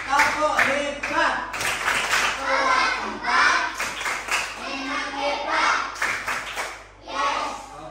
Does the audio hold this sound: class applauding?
yes